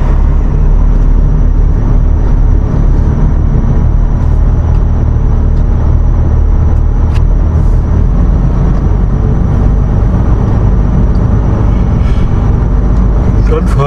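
A truck hauls a Liebherr 938 excavator on the road toward Ludwigshafen, its engine a steady, loud, continuous low rumble and drone of road noise that holds throughout with no pauses.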